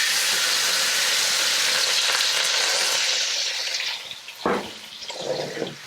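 Gochujang sizzles loudly as it is stir-fried in a hot pan for spicy stir-fried webfoot octopus, a bright hissing fry that fades, then a brief clatter and renewed sizzling near the end.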